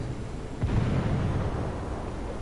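A small propane explosion goes off at about 0.6 seconds as a single low, muffled boom, followed by a rumbling roar that carries on for the rest of the clip. No voices are heard.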